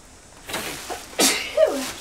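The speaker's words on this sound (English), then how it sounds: "I'm allergic to dust, so I will be sneezing and things like that." A person with a dust allergy sneezes once, a sharp close burst after a short intake of breath, followed by a brief vocal sound.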